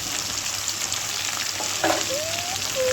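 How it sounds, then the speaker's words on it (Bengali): Chicken frying in a pan with spices and turmeric sizzles loudly and continuously while it is stirred. A brief rising whistle-like tone sounds near the end. "এবারে চিকেনটাকে নাড়াচাড়া করে ভালো করে ভেজে নেব"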